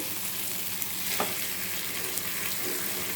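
Roasted mashed eggplant goes into a hot oiled pan for bharit, giving a steady close sizzle and frying hiss with a brief stirring scrape, no voices.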